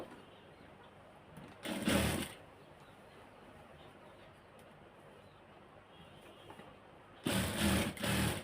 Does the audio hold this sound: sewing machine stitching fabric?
yes